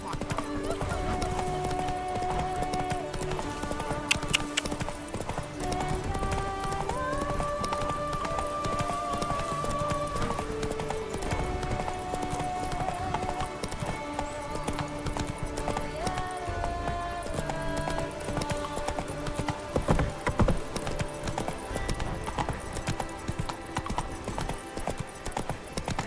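Hooves of the horse Roach in The Witcher 3 clip-clop at a steady gallop throughout, close and rhythmic, with occasional snorts, over a sustained orchestral game score and intermittent talking voices.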